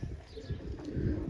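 Pigeons coo softly in a loft where chicks are nesting, low murmuring calls running steadily through the whole moment under some background noise.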